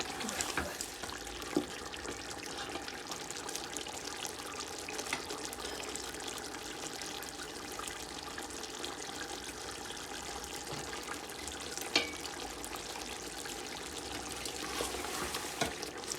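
Browned onions and tender chicken sizzle together in a pot while chicken korma cooks, a steady, soft crackling hiss that runs evenly throughout with faint clinks, no talk.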